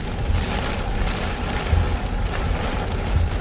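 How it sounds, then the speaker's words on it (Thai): Heavy rain pours down in Bangkok as a dense, steady hiss, with a low rumble underneath that suggests traffic nearby. There is no talking. "ตอนนี้ก็ฝนตกแบบมองอะไรไม่ชัดเลยพี่"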